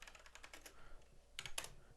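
Typing on a PC computer keyboard, a quick run of light clicking keystrokes followed by a short pause and a few sharper key presses, close but quiet.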